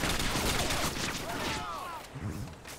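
Rapid gunfire in Modern Warfare 2 Demolition play: a loud, dense volley of shots fading after a couple of seconds, with a player's voice briefly heard alongside.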